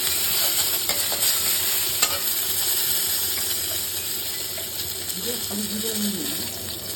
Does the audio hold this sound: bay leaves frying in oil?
yes